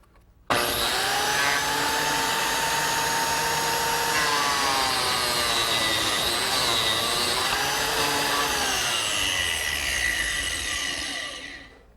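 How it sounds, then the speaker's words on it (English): A biscuit joiner cuts slots for number 0 biscuits into mitered wood for a small jewelry case. It makes a close, loud, steady motor whine with cutting noise that runs about eleven seconds without a break, then stops. No one speaks. "Now I can make slots for number 0 biscuits."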